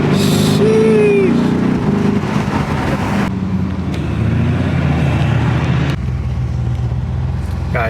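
Lamborghini Urus engine and road noise from inside the cabin while following a Bugatti, a steady loud drone with shifting low rumble and a brief whine early on, no talking.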